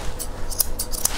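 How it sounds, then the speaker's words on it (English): Grooming scissors trim a matted Bichon's coat, giving several quick crisp metallic snips close up over a steady background hiss. "I'm just gonna grab my scissors and just kind of give her some personality."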